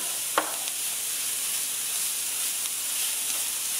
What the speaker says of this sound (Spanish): Estamos cocinando verduritas.